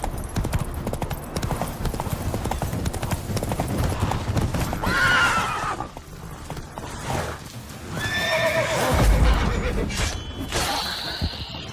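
Hooves of Roach, a horse in The Witcher 3 game, clip-clop in a steady rhythm, loud and near, with short whinnies breaking in twice.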